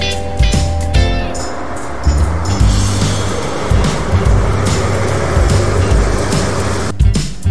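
A road vehicle rumbles steadily past at close range, a loud continuous engine and tire roar with a brief break near the end.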